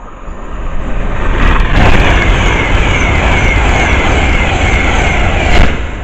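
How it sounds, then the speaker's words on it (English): An Avanti Class 390 Pendolino train roars past close by at Harrow & Wealdstone station, a loud rushing, rumbling wash that swells and holds, with brief rattling bursts as it passes. "The next train passed by is going to be Avanti 390 again."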